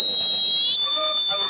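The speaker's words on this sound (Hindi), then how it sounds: "गाइस देखिए अलार्म में आवाज आ रही है यहाँ पे।" A thermistor fire alarm built as a college physics exhibition project buzzes with a steady, loud high-pitched electronic tone that holds for the whole clip, with faint voices and crowd noise from the exhibition hall beneath it.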